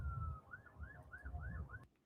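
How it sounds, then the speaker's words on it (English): Police sirens wail in repeated rising-falling sweeps over a low rumbling background, then cut off abruptly near the end. "Too many. Wow. Many sirens."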